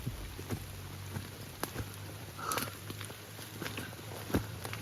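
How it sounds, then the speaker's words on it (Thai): Heavy rain falls steadily in a forest in a continuous hiss with scattered drops and a few soft thuds, moderately faint and with no talking. "ฝนก็ตกไม่หยุด"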